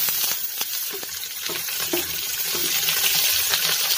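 Chopped tomato hits a pan of browned onions and sizzles, a bright steady frying hiss with scattered small clicks and pops running throughout, close and continuous.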